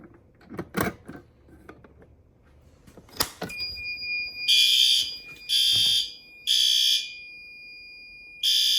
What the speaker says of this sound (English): This horn strobe is working.